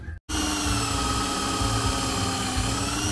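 A power drill bores a pilot hole during an at-home speaker repair, a loud, steady whine running continuously after a brief pause near the start, with no talking.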